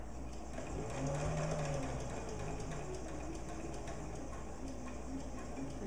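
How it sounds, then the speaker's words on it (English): A sewing machine stitches two fabric layers together, a quiet, steady rapid whirring run heard close throughout. "So I'm going to just keep sewing"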